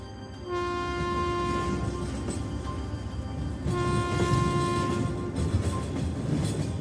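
Approaching freight train at a station, a sustained horn blaring over a steady rolling rumble that swells as it nears.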